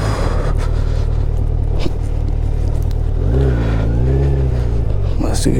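Motorbike engine labouring slowly up a steep, turning mountain road on Sach Pass, Banikhet to Kilar route, a loud steady close rumble with rising and falling revs as the rider eases through bends.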